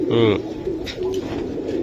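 A silver pigeon gives a short, throaty coo near the start, followed by softer murmuring tones, heard close by against low background noise.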